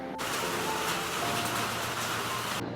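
Steady rain falls outside, a constant hiss of drops that holds at an even level from start to finish with no talking.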